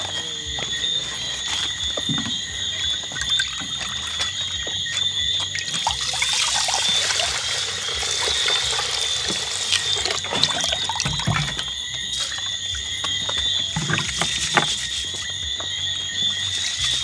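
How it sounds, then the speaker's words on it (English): Water trickles and splashes while rice is washed in a pot, a steady close stream with small sloshes and clatters over a faint high electronic whine. "Wash rice about 2 times,"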